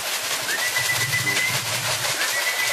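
Racing pigeons arriving at a loft in Łochów, with soft cooing and thin whistling calls over a steady outdoor hiss, fairly near and continuous.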